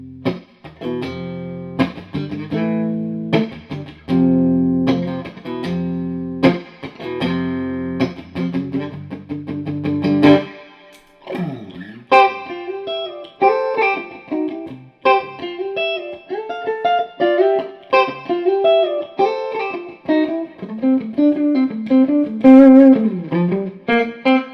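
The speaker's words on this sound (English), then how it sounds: "we go to this kind of riff part in this song, and it goes a little something like this" An electric guitar, a Strat-style partscaster, runs through a pedalboard with heavy distortion and effects, playing a choppy chugging riff. After a brief pause it moves into a looser section with bends and sustained notes.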